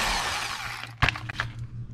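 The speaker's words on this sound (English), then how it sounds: "So I have an assortment of these little wire wheels that go on a drill." A small wire wheel on a drill whirs and scratches as it strips paint on a Ford 1710 diesel tractor, with a close, continuous hiss followed by a few abrupt scraping bursts.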